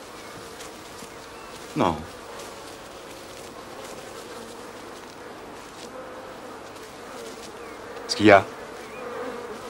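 A swarm of angry killer bees drones steadily throughout with a dense buzz, and two short voice bursts in French break in over it.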